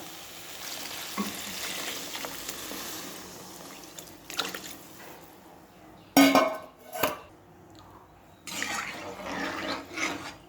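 Water is poured into a pot of rice khichuri, sounding as rushing splashy bursts that alternate with quieter spells of clattering cookware at close range.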